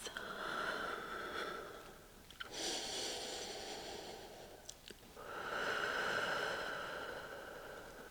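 Slow, deep nasal breathing during a strength yoga flow, long airy inhales and exhales close to the microphone, two full breath cycles separated by brief pauses, with no talking.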